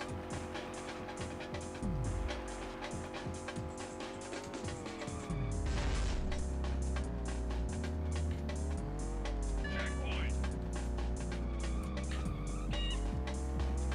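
A race car in a video game roars at high revs, its engine note rising and dipping through shifts while tires squeal and skid in several short bursts; no talk.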